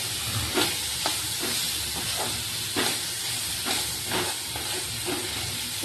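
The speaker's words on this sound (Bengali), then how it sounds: "দিয়ে ভালো করে নাড়াচাড়া করে নিচ্ছি" Pumpkin being stirred with spices in a little oil in a pan: soft steady sizzling with repeated scraping strokes of a spatula every half second or so, close and fairly quiet.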